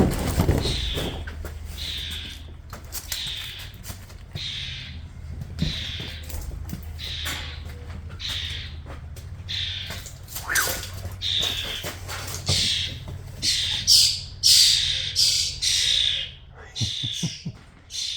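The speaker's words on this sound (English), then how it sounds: "we got a nest of robins right in that box" Baby robins in a nest squawk with high-pitched chirps in short bursts, roughly one or two per second, growing busier and louder toward the end over a low steady hum.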